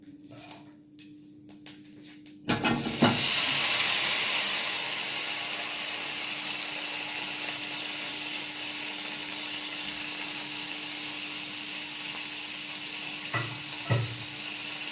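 Chopped vegetables dropped into hot oil tempered with whole spices in a pan, setting off a sudden loud sizzle that holds as a steady frying hiss, with a couple of brief stirring clatters near the end.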